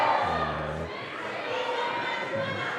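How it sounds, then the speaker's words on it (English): A crowd cheers and shouts for a young climber at a European Youth Bouldering Cup competition in Kaunas, with children's voices prominent in a lively, fairly distant roar that eases briefly before picking up again. "we have a really big cheer up for Alexander"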